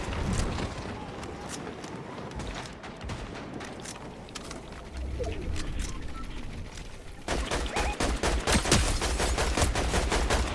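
Rapid crackling bursts of fireworks in Fortnite, sharp pops in dense irregular volleys that grow louder and busier toward the end.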